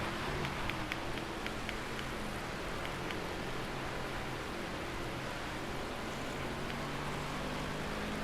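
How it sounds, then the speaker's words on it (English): Rain during a video game race: a faint, steady hiss of falling rain with scattered light droplet ticks, continuous and low in level, with no voices. "And it's gonna rain all the way up to the end of the race."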